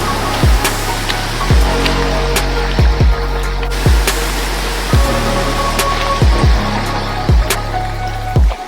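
Shannon Falls, a roughly 1,000-foot waterfall in Squamish, British Columbia, gives a steady close broadband rush that runs unbroken throughout, punctuated by recurring low buffeting thumps.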